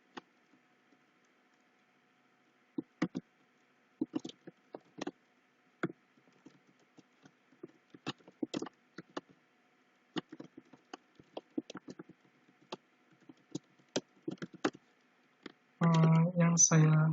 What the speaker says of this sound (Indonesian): saya akan mengetik saja.